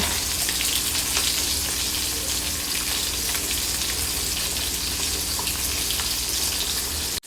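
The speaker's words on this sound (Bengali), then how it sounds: "আর এর দিকটাও লাল করে ভেজে আমি মাছগুলো তুলে নেব" Pieces of rohu fish fry in hot oil, making a loud, dense, continuous crackling sizzle close by that cuts off abruptly at the end, with no talking.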